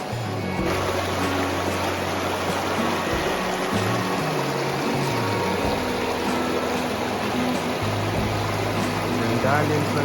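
Clear water of the Nambalan river flowing steadily, a continuous broadband rush close by that fills the whole clip, with a low engine-like hum running under it.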